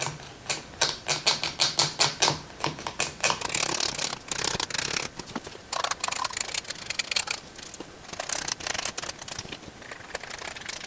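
A blade scrapes and scratches across a Friday the 13th Part 7 mask in quick rhythmic strokes, close and raspy, starting in a regular back-and-forth pattern and turning into denser, irregular scraping.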